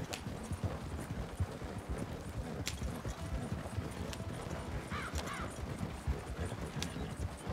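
Steady rhythmic hoofbeats of a galloping horse in Red Dead Redemption 2, continuous and busy, with a few sharp clicks and a brief chirpy blip.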